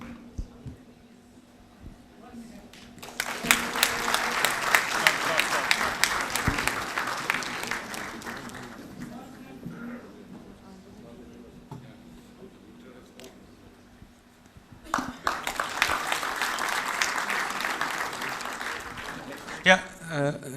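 A conference audience at a quantum physics and consciousness event breaks into two rounds of applause for the speakers, each swelling and fading over several seconds, with quiet talk in the pause between them.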